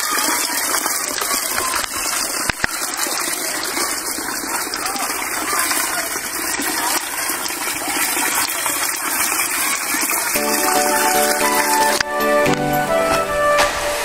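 River water rushes and gushes steadily in a broad, noisy wash throughout, with a brief tonal sound near the end.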